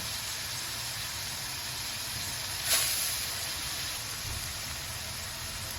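Cooking wine hits a hot pan during a beef tripe stew: a steady, faint sizzling hiss with a brief louder burst as the liquid is added, then settling back to a constant sizzle.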